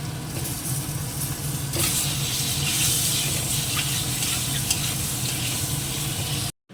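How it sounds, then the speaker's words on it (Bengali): Eggs fry in hot oil with a pinch of turmeric, a loud steady sizzle and crackle that runs close and continuous throughout, with some stirring noise and no talk. "ডিমগুলো আগে একটুখানি ভেজে নেবো একটুখানি হলুদ গুঁড়ো দিয়ে দিই"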